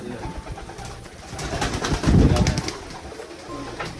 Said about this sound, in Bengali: তার আগে পায়রাগুলো সব ছেড়ে দিই